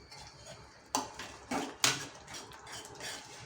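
A sweet mixture with cardamom powder is stirred in a pan, giving faint scraping with a few sharper spoon-on-metal clinks, close by and with no voices.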